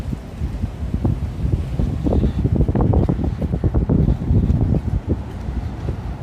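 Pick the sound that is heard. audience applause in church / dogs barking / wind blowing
wind blowing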